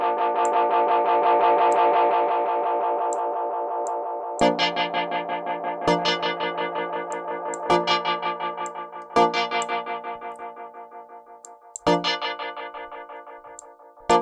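AudioThing Outer Space vintage tape echo and reverb plugin on a sustained tone: a long swelling note, then a series of struck notes each followed by rapid repeating echoes that decay away, loud with no talking.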